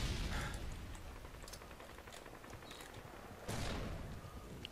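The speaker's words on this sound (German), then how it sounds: "Hey, diese ganzen Schüsse, ne?" Rapid bursts of gunfire in Call of Duty: Modern Warfare 2 crackle steadily, with scattered shots and a louder volley near the end.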